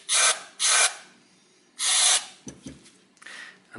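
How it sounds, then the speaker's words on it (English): Brake cleaner sprayed onto a Ford Zetec engine MAF air flow sensor: three loud close hissing bursts of aerosol, then a few light clicks and taps, with no speech. "This is my cleaner, brake cleaner."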